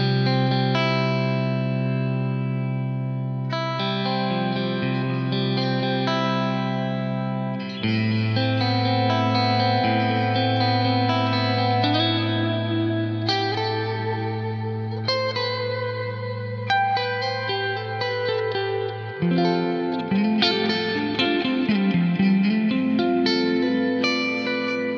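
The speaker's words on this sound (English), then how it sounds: "The large hall with the time really high is absolutely beautiful to listen to." BOSS RV-500 reverb pedal on its large hall setting with a long decay time, washing sustained guitar chords into a dense lingering tail as the chords change, loud and continuous with no talking.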